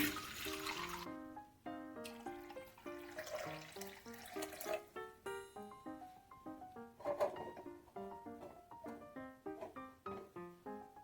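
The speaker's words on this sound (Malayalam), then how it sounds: "ഇനി ഇതിൽ നമുക്ക് കുറച്ച് വെള്ളം ഒഴിക്കാം നിറച്ച് വെള്ളം ഒഴിക്കണം" Water poured into an old rusted cast iron appam pan, a faint running splash with rising gurgling tones and intermittent pours, quiet and close.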